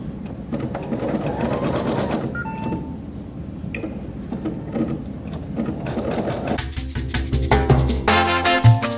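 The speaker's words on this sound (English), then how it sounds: "let's pretend I'm embroidering along here," A Creative Sensation Pro embroidery machine stitches a design with a rapid mechanical rhythm, interrupted by short electronic beeps, then louder clattering bursts toward the end.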